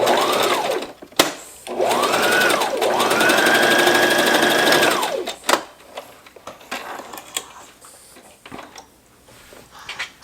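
A sewing machine stitches the strings onto a cloth face mask in close, loud bursts of rapid whirring, roughly one short run and then a longer steady run, followed by quieter handling clicks and rustling.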